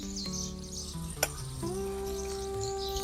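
Garlic and ginger-chili paste frying in oil for a tempering for a mung and chickpea dal, with a steady soft sizzle and one brief clink, plus a tonal hum and faint chirps in the background.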